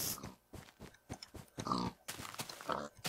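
Pigs in the video game Minecraft giving a run of short, choppy grunts and oinks, several bursts close together at moderate loudness with no speech.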